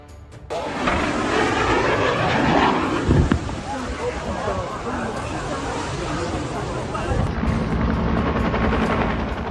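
A helicopter's steady rotor roar fills the whole stretch, loud and close, with wind buffeting and a murmur of voices underneath.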